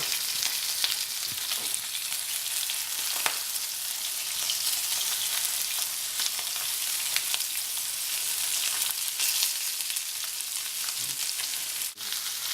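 A steak sizzles and crackles steadily in a hot pan with rosemary, an even frying hiss with scattered pops, close up and uninterrupted by talk.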